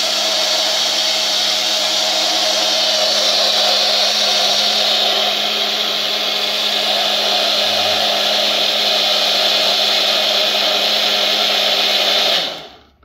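Mixer grinder whirring continuously as it blends an Oreo milkshake, a loud steady motor roar with bright high whine lasting about twelve seconds, then cutting off abruptly at the end.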